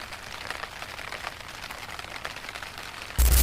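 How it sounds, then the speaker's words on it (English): Steady rain patters through a forest at night, a dense even hiss of drops on leaves and ground, then a sudden loud burst of noise at the very end. "Raining as well."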